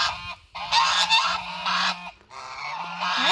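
Farm geese honk loudly and repeatedly at close range in overlapping bursts, with only brief pauses between calls.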